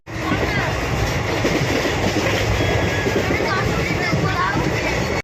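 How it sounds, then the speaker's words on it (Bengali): A train rumbles along steadily with rhythmic clatter of wheels on the rails, loud and continuous throughout. "ট্রেনটা সত্যি খুব ভালো টানছে, মানে খুব স্পিডেই টানছে"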